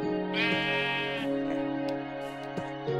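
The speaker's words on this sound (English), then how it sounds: "Hey, look, we have Jeff the sheep." A sheep in a Minecraft-style survival game bleats with a drawn-out, wavering cry, loud and close, with a shorter bleat following. No one talks over it.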